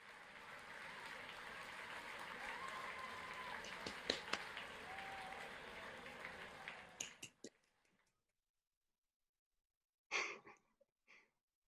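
Online university graduation audience for computer science students applauding through unmuted microphones: a thin, scattered patter of claps with a few breaths, fading out, then a brief burst of sparse claps after a silent pause.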